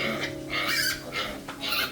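Piglets on a pig farm squeal and grunt in repeated high-pitched bursts, close and loud, with a low hum in the background.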